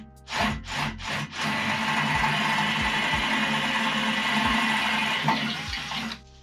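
A drill bores a 9mm hole for a fairing mount on a Honda CB 500 race bike, giving a few short bursts before a sustained loud grinding whir that cuts off at the end.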